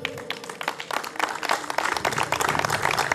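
An audience applauds a first prize winner at a cooking marathon, a steady wash of many hands clapping that swells slightly and holds throughout, with a few faint voices underneath.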